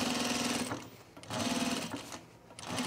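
Sewing machine stitching along a shirt collar stand, running in two close, steady bursts with a short pause between, then starting up again at the end; no voices.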